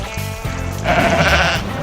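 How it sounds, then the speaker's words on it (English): A sheep gives a couple of close, loud bleats, one short and one longer and wavering, on a farm. "sheep"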